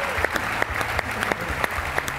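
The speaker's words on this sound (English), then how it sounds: "give them a round of applause" Sustained audience applause at a ViSalus company event in Orlando, a full room clapping steadily with scattered sharper claps and faint crowd voices beneath.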